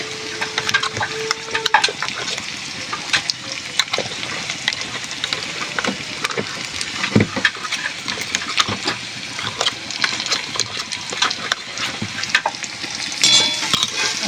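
Ginger garlic paste hitting hot oil with reddish fried onions for a dried-fish curry, a continuous loud sizzle with frequent stirring scrapes and crackles, close up.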